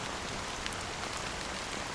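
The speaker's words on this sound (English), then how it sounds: "how long has this rain been going on for?" In a video game, steady rain falls and patters on surfaces as a dense, continuous hiss that holds at an even level throughout, with no talking.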